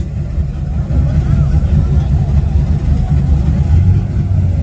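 A hoodless truck engine running loud and close, a dense low rumble holding steady with slight surges as it revs, with no voices on top.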